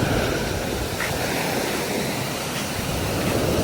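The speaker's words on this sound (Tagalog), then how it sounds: "Grabe yung alon pala dito." Big ocean waves at low tide, a steady, loud wash of surf and rushing water with wind noise against the microphone, continuous and close, with no talking.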